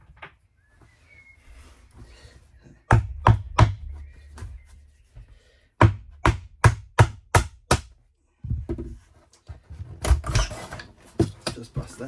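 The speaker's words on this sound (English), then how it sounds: "we'll get a hammer, we'll knock that out." A hammer knocks out a wall piece inside a caravan under renovation, arriving as quick bursts of sharp close blows with quiet gaps between and some low thuds and rattles near the end.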